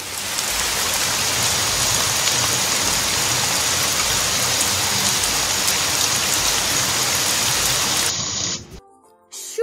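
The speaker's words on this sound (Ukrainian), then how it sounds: "Правильно, це дощ." Recorded rain pouring steadily, a dense even hiss of drops that cuts off abruptly near the end, no voices heard.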